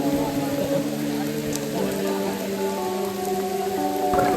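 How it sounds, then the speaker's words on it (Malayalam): Steady rain patters on surfaces all around at Amboli Ghat, Maharashtra, during the monsoon, a constant hiss with tonal background sounds layered over it, moderately loud. "മഴ ഇപ്പോഴും പെയ്തോണ്ടിരിക്കുക"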